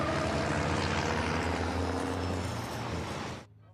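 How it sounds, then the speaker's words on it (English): Racing trucks at the Most circuit during a race produce a loud, sustained engine roar with shifting, wavering tones as they drift, cutting off abruptly near the end. "You can hear more drifting going on in the background as well."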